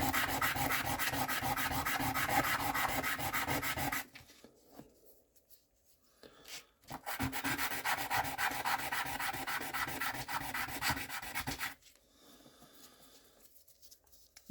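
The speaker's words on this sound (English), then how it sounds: "Yeah, it's sanding all right." Close rhythmic rasping of sanding a Yangshan quarry stone in two long bursts, separated and followed by brief quiet pauses.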